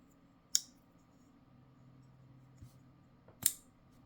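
A Rive Quickdraw multi-tool with a D2 blade and aluminum handle gives two sharp, isolated clicks about three seconds apart as the blade flicks open, close and clear against a quiet room.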